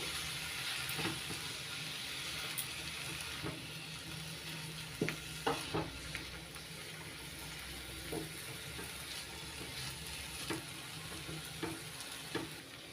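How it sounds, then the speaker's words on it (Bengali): Handmade vegetarian paneer chow mein being stirred and tossed in a hot pan, with steady sizzling frying and scattered scraping clinks of the utensil against the metal, close and continuous with no talking. "চাউমিন একটু নাড়াচাড়া করে নিচ্ছি হাতে তৈরি চাউমিন দিয়ে"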